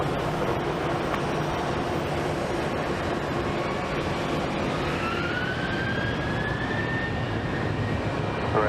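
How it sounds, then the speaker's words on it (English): A Southwest airliner takes off from runway 25 right at Phoenix Sky Harbor, a steady loud engine roar with a rising whine that sweeps upward through the second half, continuous throughout. "Southwest 4957, runway 25 right, clear for takeoff"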